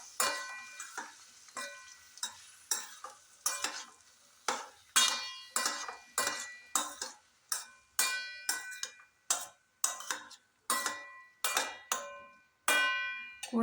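Green beans being stirred in a pan for a Kerala payar thoran, with repeated scraping strokes and a light sizzle in a steady rhythm, close by and alone without talk.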